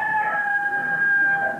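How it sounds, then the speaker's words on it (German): A rooster crows in one sustained, drawn-out call with a steady tonal quality, loud and close, with no voices alongside it. "Immer wenn der Hahn kräht, ist Dienstag."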